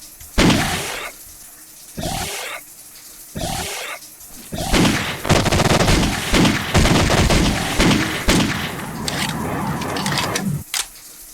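Gunfire in the FPS Creator game Euthanasia comes in several sharp bursts, first spaced apart and then in denser, rapid volleys with clattering impacts, loud and close.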